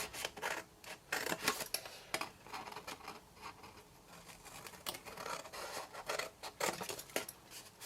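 Snipping and scraping of large scissors cutting material for a stick-fold box, a series of irregular crisp cuts with rustling in between, close and fairly quiet.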